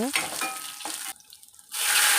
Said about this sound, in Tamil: இதெல்லாம் பொரிஞ்சு வரும்போது ரெண்டு காஞ்ச மிளகா தட்டி வச்ச பூண்டு இதெல்லாம் சேர்த்து நல்லா வதக்கி விடுங்க